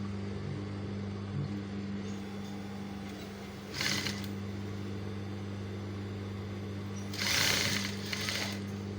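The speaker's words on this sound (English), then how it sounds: "So we'll just start sewing from here." A sewing machine stitching fabric for cufflinks, a faint steady mechanical hum with two short louder bursts of running stitches, no speech.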